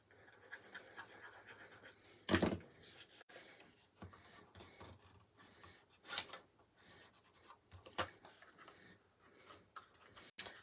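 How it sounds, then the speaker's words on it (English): A bone folder burnishes paper on a small handmade gift box, producing soft, intermittent rubbing and scraping strokes, quiet and close, with a few sharper taps and swipes between them. "I'm going to run my bone folder down, make sure it's nice there on the back"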